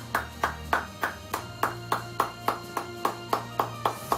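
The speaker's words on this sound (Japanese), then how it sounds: "盛大な拍手をお願いします" Slow, evenly spaced claps repeat about three times a second, sharp and fairly close, over a low steady hum.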